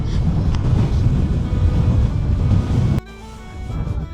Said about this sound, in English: It is windy as hell up here, guys.